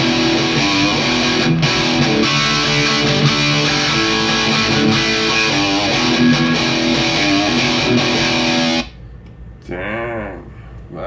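Electric guitar recorded with a Pyle microphone placed on the cap edge plays a dense, distorted riff at steady loudness, then cuts off near the end, leaving a brief gap and a short, faint trailing phrase.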